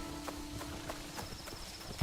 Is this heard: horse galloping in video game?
yes